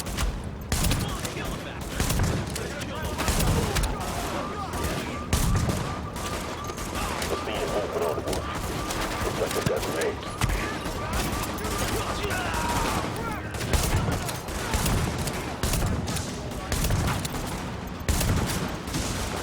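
A shotgun gunfight in The Division video game, with dense bursts of gunfire and repeated shots overlapping across a noisy battle scene, firing almost continuously at close to moderate distance with voices faintly mixed in.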